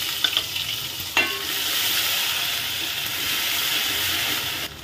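Ginger garlic paste frying in oil with whole garam masala for a biryani, giving a steady close sizzle and hiss with a couple of sharp stirring knocks near the start, and no talk.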